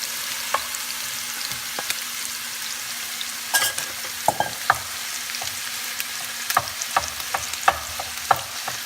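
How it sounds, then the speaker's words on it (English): Rice stir-fried with onion in a hot pan for spamsilog, a continuous sizzle broken by scattered clinks and scrapes of a utensil against the pan, fairly close and with no talking. "It's very easy to cook fried rice."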